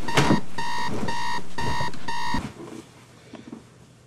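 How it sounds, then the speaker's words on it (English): A fire detector alarm blares in loud repeated electronic beeps, four or five sharp pulses in quick succession, then cuts off abruptly, leaving a quiet room with a few faint rustles. "Always sleep with a fire detector under your pillow."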